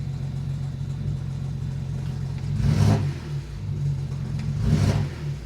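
A BMW 335i engine running rough with a cylinder 3 misfire, a steady low idle rumble broken by two louder surging revs, close and alone.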